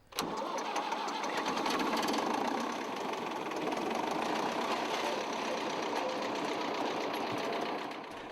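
Tractor engine running steadily while mechanically clearing invasive ferns on heathland, a continuous droning rumble that starts abruptly and holds constant at moderate distance with no voices.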